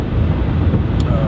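Gusty spring wind buffeting a vehicle driving on a Wisconsin road, a loud continuous low rumbling roar that fills the whole stretch with no speech.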